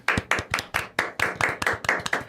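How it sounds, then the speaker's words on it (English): An audience claps in a quick, regular rhythm of sharp, close hand claps, steady throughout the short burst with no voices on top. "Give yourselves a round of applause."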